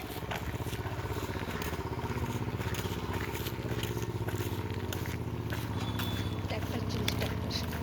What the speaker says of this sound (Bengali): হ্যাঁ ওই দিকটা ট্রাক্টর চলছে